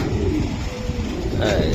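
Racer pigeons at a loft coo in low, throaty murmurs, close and loud, while someone talks over them.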